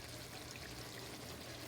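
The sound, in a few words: pouring about 2 cups of water for gravy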